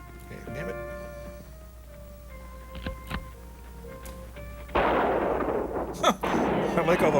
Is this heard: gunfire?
yes